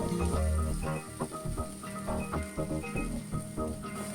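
Masala spices sautéing in hot oil for a Bengali prawn malai curry (chingri macher malai curry): a faint, steady crackle of sizzling with scattered small pops and spits, heard alone without talk.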